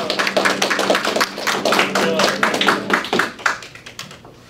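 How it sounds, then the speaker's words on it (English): A small audience at a high school short film lecture gives Ben a round of applause, close, distinct claps in a loose uneven rhythm that thin out and fade toward the end. "let's give Ben a round of applause."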